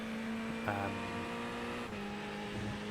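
Ferrari GT3 race car engines in the iRacing sim, a steady droning engine note with a brief higher whine from a nearby car, moderately quiet.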